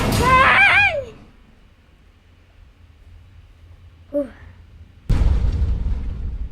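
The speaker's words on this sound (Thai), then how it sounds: "เสียงระเบิด" A voice cries out, then after a quiet pause a sudden loud blast erupts and rumbles on, booming like an explosion in the video game Garten of Banban on iPad.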